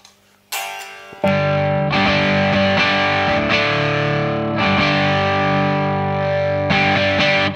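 Electric guitar through a BOSS SD-1 overdrive pedal, strummed chords ringing loud and sustained, with a few restrikes and no voices.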